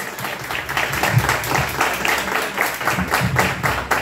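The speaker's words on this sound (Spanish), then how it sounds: "Y el aplauso que se ve bien bonito para él." An audience at a mariachi birthday celebration applauds, a close, uneven burst of clapping with individual hand claps audible, rising and falling over several seconds.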